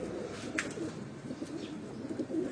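Breeder pigeons at a loft in Pindi coo softly and continuously, a low rolling murmur with a brief higher chirp mixed in.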